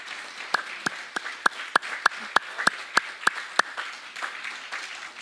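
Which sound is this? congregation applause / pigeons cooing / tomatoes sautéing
congregation applause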